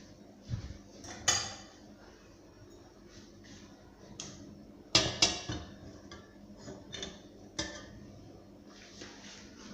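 Lifting the khaman dhokla vessel out of the steamer produces sporadic metallic clinks and taps, several sharp knocks of pots and lids against each other over a quiet kitchen background.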